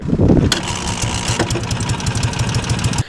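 An air-cooled V4 motorcycle engine, long forgotten and freshly rebuilt, catches after a brief low rumble and settles into a steady, close, loud idle with a rapid uneven pulsing beat and some mechanical clatter.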